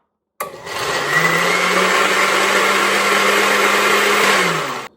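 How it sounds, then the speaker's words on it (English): A countertop blender whirls ingredients for a Biscoff cookie butter recipe, starting abruptly and running as a loud, steady motor whine with a churning rasp for several seconds before cutting off. Nearby and uninterrupted by speech. "top on the blender. Seed it in. Time to give it a bit of a whirl"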